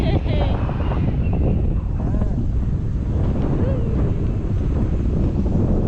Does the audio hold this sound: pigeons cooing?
no